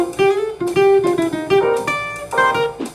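A professional-sounding jazz guitar plays a smooth, sustained phrase of single notes and chords, close and alone, with no talking.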